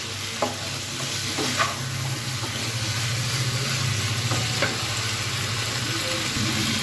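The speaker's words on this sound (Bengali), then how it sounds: "আমি বেশি নাড়বো না, একবার নেড়ে তারপর উল্টিয়ে দেবো ঝাঁকি দিয়ে" Steady sizzling of cauliflower and potato frying in a pan, with a few scraping stirs of a utensil across the surface.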